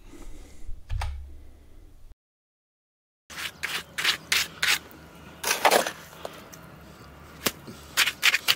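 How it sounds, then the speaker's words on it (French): A level scrapes and smooths wet concrete poured in formwork for a solar panel mounting structure, giving short rasping strokes in bursts after a brief silent gap, close and fairly quiet. "utilisez une petite règle ou le niveau comme dans ce cas précis pour lisser votre béton"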